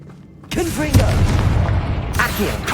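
A Confringo spell blast from Hogwarts Legacy hits with a sudden booming impact and sustains a crackling roar, while a voice talks over the top and a second burst lands near the end.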